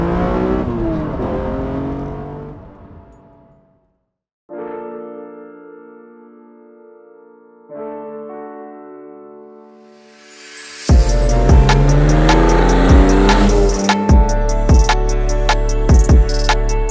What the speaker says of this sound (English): I'm driving a Z4M.